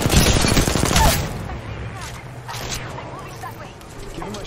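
Rapid automatic gunfire in Apex Legends, loud and close, a fast burst of shots in the first second that gives way to scattered shots and lingering battle noise.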